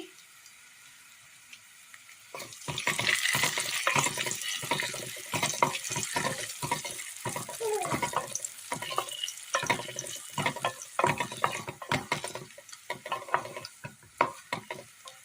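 Chopped dates and cashews frying in ghee in a pan make a soft sizzle, broken by many sharp scraping and clattering strokes as a spoon stirs them close by, with no talking.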